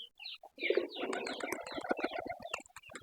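A flock of pigeons coos and flutters close by while eating cabbage, mixed with busy chirping and quick pecking or wing sounds, no talking.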